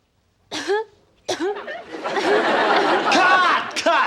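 Exaggerated, dramatic coughing in a few harsh bursts, building into a long rasping hacking fit, close and loud, with some chatter and chuckling mixed in.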